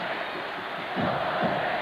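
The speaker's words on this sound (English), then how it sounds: "The crowd perking up here a bit as now State down by 7." A college football stadium crowd at Michigan State rumbles and swells into a rising roar, with a distant, continuous wash of many voices cheering.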